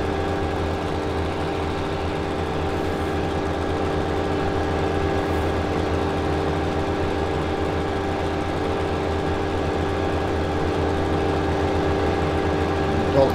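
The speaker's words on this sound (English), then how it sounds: "It sounds fantastic. It does, it's a really good tractor." A tractor engine idles in Farming Simulator 17, holding a steady, even drone at constant loudness for the whole stretch, close and unbroken, with no talk over it.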